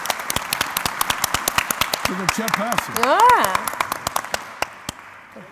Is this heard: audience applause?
yes